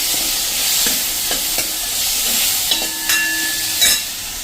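Chopped medium tomato going into a hot pan for a bottle gourd kadhi, giving a steady sizzle and hiss with soft stirring clinks and scrapes, close up and with no talking.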